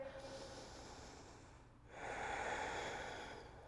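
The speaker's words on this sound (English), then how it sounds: "Take a couple of deep breaths here." Deep breathing during a hatha yoga session: a soft, airy exhale gives way to a fuller, louder inhalation that swells and slowly fades, close and alone with no talking.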